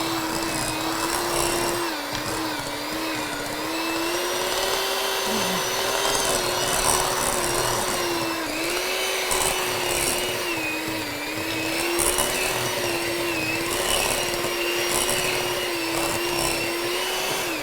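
Cheap electric hand mixer creaming butter and sugar in a bowl, a loud, continuous motor whine with a wavering pitch as the beaters work the mixture, running steadily for the whole stretch with no voices.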